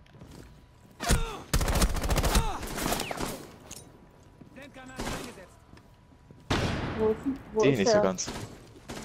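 Gunfire in Rainbow Six Siege: several loud bursts of automatic fire and single shots in clusters, with German-speaking players talking between and over them.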